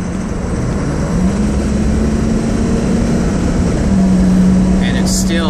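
Ford 6.0 Powerstroke diesel engine held at full throttle, a sustained loud roar with a steady droning tone heard from inside the closed cab, ending with a brief high burst.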